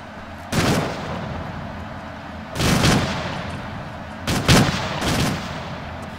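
Airsoft gunfire during a milsim game in a forest, several short bursts of sharp cracks spaced a second or two apart, moderately close, with no talk.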